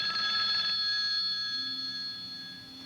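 A telephone rings on its own, a steady bright electronic trill that holds without anyone talking over it.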